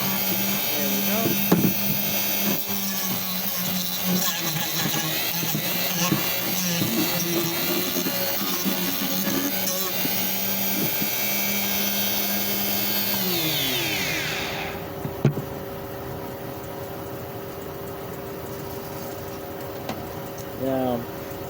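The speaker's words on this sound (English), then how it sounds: "Now, the old sander ran fine off this inverter, and no blinking red light." An electric sander runs off a power inverter with a loud, steady whine and rattle that winds down and stops partway through, followed by a quiet hum and faint background noise.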